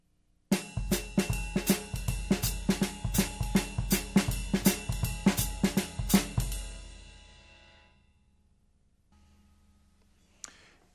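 A drum set groove filling in the missing eighth notes, a dense run of evenly spaced snare and bass drum strokes under cymbal time for about six seconds, then a long cymbal decay and one faint late tap.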